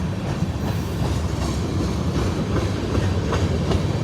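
A long CSX freight train, about 10,000 to 12,000 feet, rolls steadily past in Kelly, Kentucky, a continuous heavy rumble with faint rhythmic wheel clatter and metallic squeals, loud and close throughout with no voices.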